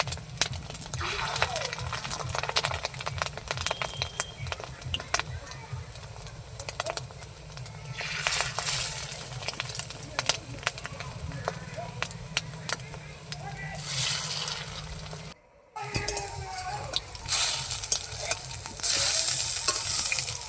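Fish roe fritters fry in smoking hot oil in a pan, giving a continuous crackling sizzle with occasional louder bursts and a brief silent gap near the end.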